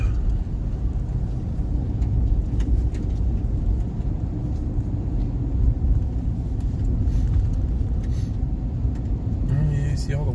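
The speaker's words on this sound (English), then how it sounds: "There's a car coming at us." A car approaches on a foggy road beside a flooded river, a steady low engine and tire rumble that stays fairly constant, with a few faint higher noises near the end.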